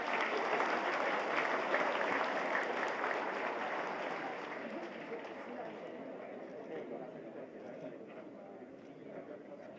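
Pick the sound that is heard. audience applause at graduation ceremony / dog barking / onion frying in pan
audience applause at graduation ceremony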